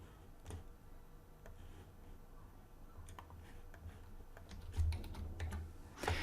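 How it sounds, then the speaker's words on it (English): Login credentials are typed on a computer keyboard in a quiet room, producing a faint, irregular run of light key clicks with one louder tap near the end. "let me type credentials as well"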